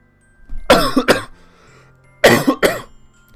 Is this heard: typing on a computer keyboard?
no